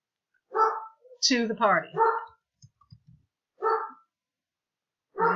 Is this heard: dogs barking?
yes